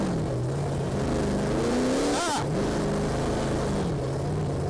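A monster truck engine roars and revs close by, a loud continuous drone that rises to a sharp peak midway and then settles back to a steady rumble.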